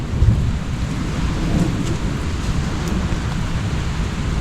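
Heavy rainstorm with thunder during a crawl space drainage job: a dense, steady roar of rain with deep low rumbling throughout, loud and continuous with no voices.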